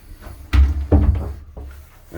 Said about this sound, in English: So I closed this door here